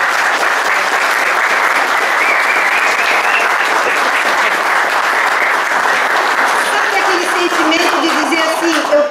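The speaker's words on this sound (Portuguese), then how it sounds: "E eu queria, inclusive, pedir para vocês baterem palmas para esse equipe." Audience at an institutional communications policy launch event applauds the team, a dense, loud sustained wash of clapping lasting throughout, with some crowd voices mixed in.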